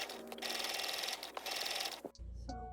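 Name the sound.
sewing machine stitching an apron to a garment front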